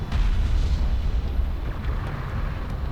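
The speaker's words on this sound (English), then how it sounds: "Armored vehicle has been destroyed." An armored vehicle is destroyed in Homeworld: Deserts of Kharak with a deep, rumbling explosion, loud and bass-heavy, that rolls on for several seconds with scattered crackles.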